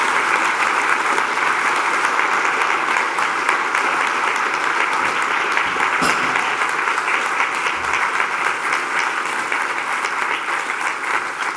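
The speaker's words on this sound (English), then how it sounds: "Let's give one big round of applause to all award recipients." Sustained, dense applause from a large audience at a university academic-year opening ceremony, honoring award recipients; steady and loud throughout with no break.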